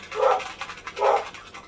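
Dogs barking, two loud close bursts of barking about a second apart with softer yips and panting between them, with no voices.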